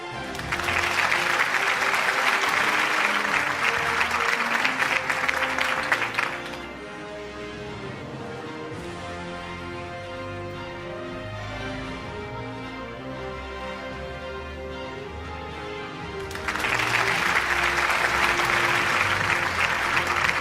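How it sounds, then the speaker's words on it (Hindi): Audience at an annual award show bursting into loud, sustained applause, which drops away to background music in the middle and then swells back to full clapping near the end. "आपकी तालियां होनी चाहिए खातिन और हज़रात"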